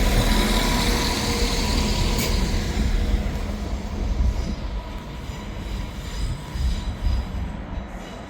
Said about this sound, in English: Arriving in now is the delayed 12:57 ScotRail service from Inverness to Edinburgh Waverley.